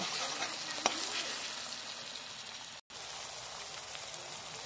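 Tomato and ginger garlic paste frying in a pan, a bright, continuous crackling sizzle with a single spatula tap and a momentary break in the sound.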